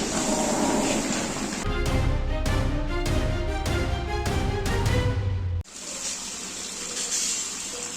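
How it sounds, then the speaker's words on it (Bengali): Tap water running and splashing over pieces of local goat mutton being washed in a bowl, eleven kilograms meant for a rezala dish: a steady close gush with irregular sloshing and handling in the middle, no one talking. "প্রথমে এগারো কেজি খাঁটি দেশি খাসির মাংস ভালোভাবে ধুয়ে পরিষ্কার করে নিলাম"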